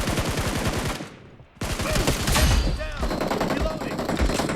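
Rapid gunfire bursts from PUBG Mobile fill the mix, dense and loud, cutting out briefly near the middle before resuming with sharp repeated shots and game effects.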